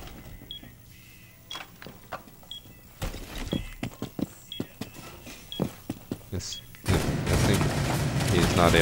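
In a first-person shooter, sharp gunshots crack out at irregular intervals amid small mechanical clicks, then a dense, loud burst of fire swells near the end, with a voice talking over parts of it.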